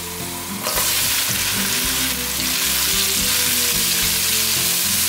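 Luffa stir-fries in hot olive oil with ginger slices, a loud, constant sizzle close up, with a sudden swell near the start and a low hum underneath.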